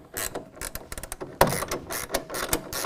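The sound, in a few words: half-inch ratcheting wrench tightening tonneau cover clamp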